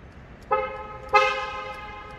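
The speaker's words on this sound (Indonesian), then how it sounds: "Untuk bunyi klakson," A Mercedes-Benz GLB 200 Progressive Line (X247) sounds its car horn in two short, loud, close toots, a brief one followed by a slightly longer one, with a quiet background and no speech.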